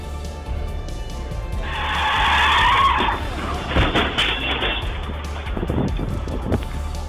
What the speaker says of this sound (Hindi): कार अनियंत्रित होकर पहले दाईं ओर भागी, फिर बाईं ओर घूम गई और तेज आवाज के साथ स्किड करते हुए 2 गाड़ियों से जाकर टकरा गई।